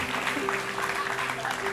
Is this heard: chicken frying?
no